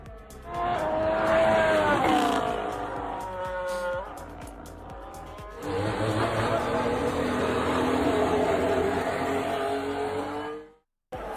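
Formula 1 race cars from several makers, including Ford and Audi, screaming past at preseason testing: loud, high-revving engines with sweeping pitch as each car passes and shifts gear, one pass after another, then a sudden cut.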